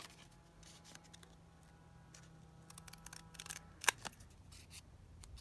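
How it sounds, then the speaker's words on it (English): A single sharp snip of hair thinning scissors cutting a paper postage stamp, brief and close, amid quiet light handling noises. "I'm just going to cut one of these little postage stamps down using my hair thinning scissors"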